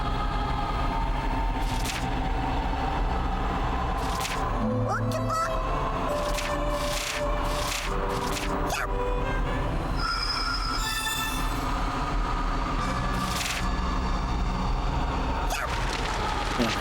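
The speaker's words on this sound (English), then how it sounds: "The night train shows up" A night train arrives in the game The Witch and the Hundred Knight, its wheels squealing and rails clanking in a long, steady rumble, with sharp screeches and bangs breaking through the rolling noise.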